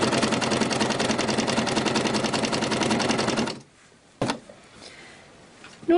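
A sewing machine runs steadily while stitching the seam of a summer top, giving a fast, even mechanical rattle for several seconds, then stops and leaves a brief click and quiet handling sounds.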